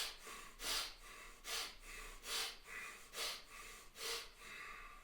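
Slow, deep breaths come close and audible from someone holding a low stance, six even inhale-exhale cycles with airy, slightly snorting rushes of air at regular intervals.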